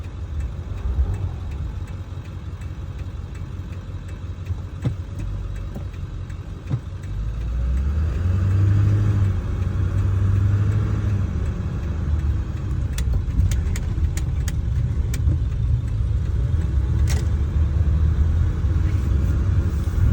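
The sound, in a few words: Ford 7.3 diesel truck engine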